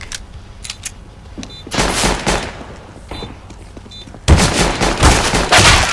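Rifle fire in the video game CS:GO comes in short rapid bursts between quieter gaps, with louder volleys near the end.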